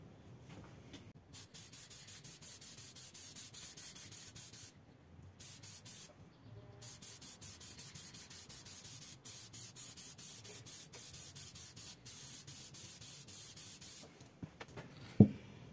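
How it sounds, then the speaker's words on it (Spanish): Copper gasket spray hisses steadily from an aerosol can onto a Renault F8Q 1.9 diesel engine part. Long, continuous bursts are broken by short pauses, and a sharp knock sounds at the end. "ahí quedó completamente cubierta con ese spray de cobre"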